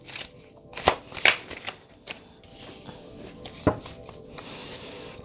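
An emotional intelligence card deck is shuffled up close, with several quick riffling bursts and soft papery slaps between quieter handling, no talk.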